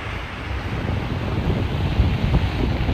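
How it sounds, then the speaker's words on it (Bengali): Monsoon sea waves surge at Digha's shore, a loud, continuous roaring wash mixed with gusty wind buffeting the microphone. "এই হলো বর্ষার সমুদ্র"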